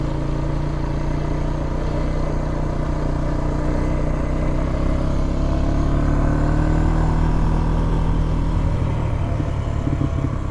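A 2004 Honda Rancher 350FE ATV climbing a trail in third gear in the Catskills, a loud, continuous low engine rumble under strain with steady drone and slight rise, close up and without talk.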